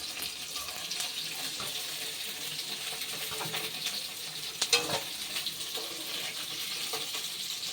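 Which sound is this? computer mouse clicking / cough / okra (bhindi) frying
okra (bhindi) frying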